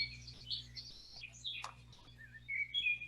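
Songbirds chirp and whistle in trees, several high, thin calls overlapping in a quiet outdoor setting over a low steady hum, fairly soft and a little distant.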